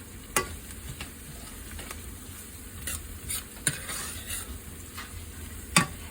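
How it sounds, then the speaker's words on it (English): Onions browning in a pan, a soft continuous sizzle broken by intermittent stirring scrapes and a few sharp utensil taps, close and fairly quiet. "once the onions begin to brown a little bit, you want to stir them around so that they don't stick to the"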